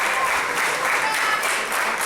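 Crowd cheering and applauding steadily at an evening memorial event before a wrestling match, a dense, loud roar of claps and voices that holds at an even level throughout.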